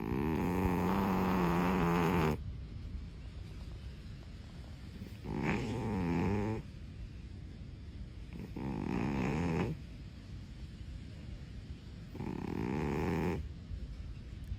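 A cat snores while asleep, slow rhythmic rasping breaths repeating every few seconds, close and fairly quiet, with soft pauses between each snore and no voices.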